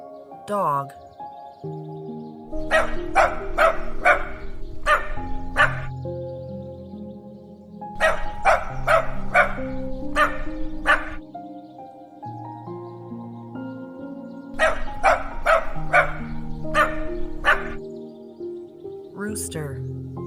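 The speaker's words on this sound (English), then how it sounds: "dog" A dog barks in quick clustered bursts of several yips each, separated by pauses, close and clear over a continuous musical backing.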